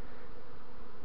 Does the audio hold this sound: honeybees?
yes